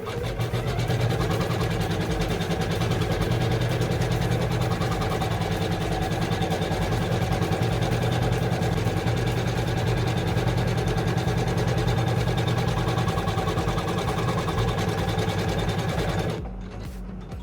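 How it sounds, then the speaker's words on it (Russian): A sewing machine stitches fabric in a continuous, steady mechanical whir with a rapid needle rhythm, running loud for about sixteen seconds before stopping abruptly. "Делаю несколько стежков."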